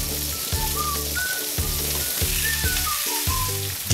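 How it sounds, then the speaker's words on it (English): Prawns fry gently in a pan with a continuous sizzle, cut through by periodic low scraping thumps as they are moved about. "Add the prawns. Cook them gently a little on each side."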